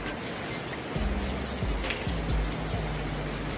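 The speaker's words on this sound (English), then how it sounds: "that's enough rain for me." Rain falls steadily as a dense hiss of drops on an outdoor fishing trip, loud and continuous, with some low thumps and rumble underneath.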